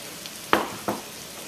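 Browned meat frying with diced onion for pastelles gives a faint background sizzle, with two brief sharp clatters of the onion being added or stirred in.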